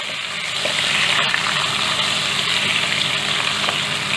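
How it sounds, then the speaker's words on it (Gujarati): Curry leaves, slit green chilies and tomatoes bubble and sizzle in hot oil for a fasting-thali dish, a steady close hiss with crackly spatter throughout, no voices. "લીમડો, મરચાં અને ટમેટાં બધું તેલમાં ઉમેરાતા તેમાંથી બબલ્સ આવે છે"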